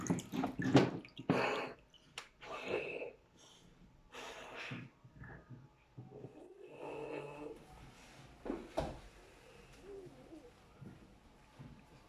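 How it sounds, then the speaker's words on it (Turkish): Bubbles are blown through a tube into water for a foam experiment. Several gurgling, bubbling bursts are followed by quieter stretches of soft burbling, close and moderately loud. "Suyun içine batır tekrar. Tekrar üfle."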